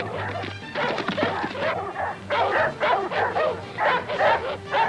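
A dog barks excitedly at a jaguar in a string of loud, close yelps and barks that come in bursts, with short whimpering gaps between them.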